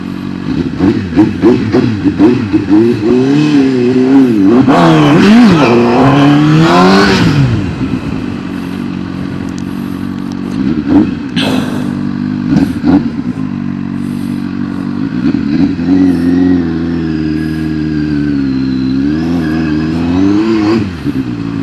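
A CFMOTO 750SR sport motorcycle with a 745cc engine revs hard, rising and falling through several throttle blips before settling into a steady, loud close-up drone with smaller revving swells.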